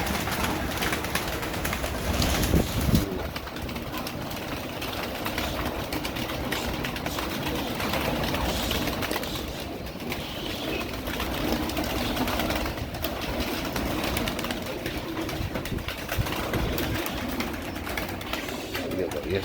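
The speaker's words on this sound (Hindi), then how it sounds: "ये सब आएंगे कबूतर।" Show pigeons in a loft, including Batary and Ali Waly birds, coo continuously in a dense close chorus, with a steady background hum throughout.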